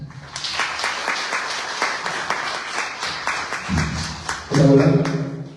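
Audience clapping at a book presentation in Spanish, a moderate patter of many hands that carries on at a fairly even level, with a voice breaking in over it toward the end.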